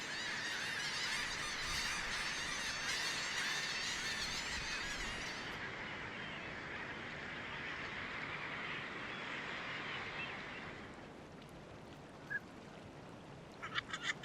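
A large flock of wildfowl and waders on a winter estuary honks and calls continuously in a dense chorus, fairly distant, thinning out toward the end.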